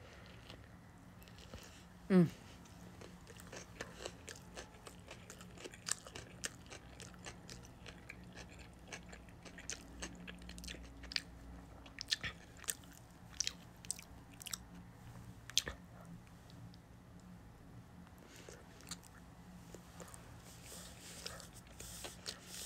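Someone eats sushi up close during a mukbang, making quiet, irregular chewing with soft wet clicks and occasional sharper crunchy bites over a hushed room.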